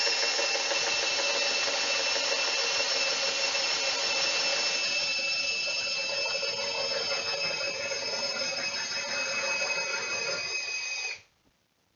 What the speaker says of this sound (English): now I'm just going to drill backwards in reverse